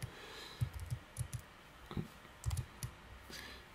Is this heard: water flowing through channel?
no